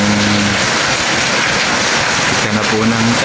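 Heavy rain pours steadily in a dense, loud wash of noise, with faint low tones, likely a voice, rising briefly at the start and end.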